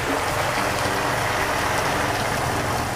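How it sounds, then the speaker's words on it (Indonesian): Water poured into a pan of wilted mushrooms cooking for chicken and mushroom fried rice gives a steady, loud hiss and sizzle with no pauses. "saya akan tambahkan air karena jamurnya juga sudah layu ya"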